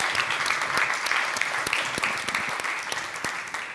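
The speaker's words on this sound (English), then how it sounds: "maybe we can give them already like a motivational short applause for their work and their preparation for the working" A conference audience at a youth event claps in a short, steady round of applause, many hands close together throughout with no voices over it.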